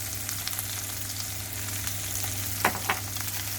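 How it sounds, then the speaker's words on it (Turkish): Eggplant sizzles steadily in a hot pan, a constant crackling hiss with a couple of short clatters near the end, no voices. "Şimdi biraz kızartalım."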